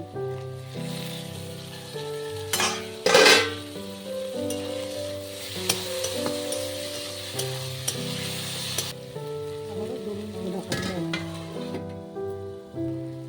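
Onion and tomato fry in a pan for katla fish kalia, a soft steady sizzle under background music with a few louder stirring scrapes and clatters near the start.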